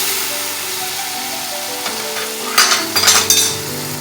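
Chopped tomatoes soften in a pan for parda pulao with a soft steady sizzle, then a few sharp metallic clinks and scrapes of stirring near the end.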